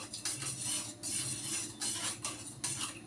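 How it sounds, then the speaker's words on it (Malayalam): A spoon stirring salt into a mixture in a pot, a soft continuous scraping and swishing with repeated light metallic clinks against the pot, close and alone. "നല്ലോണം ഇളക്കി കൊടുക്കാം."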